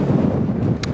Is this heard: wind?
yes